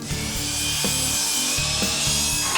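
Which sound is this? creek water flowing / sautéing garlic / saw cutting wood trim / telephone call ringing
saw cutting wood trim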